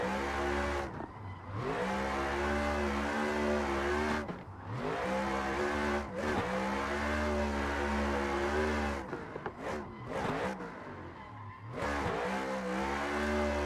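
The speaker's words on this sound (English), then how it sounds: "See if we can't drift this whole lap without without stopping." Car drifting around a lap in a racing game, engine holding high revs with rising and falling pitch through slides and brief lift-offs, tire skid noise mixed in, steady and fairly loud.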